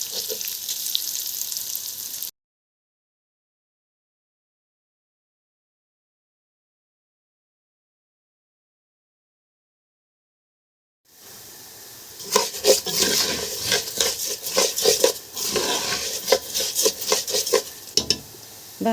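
Rice stirred in a frying pan until golden with a Maggi stock cube, a soft sizzle with scraping spoon strokes, then a long silent gap before louder frying and rhythmic stirring return.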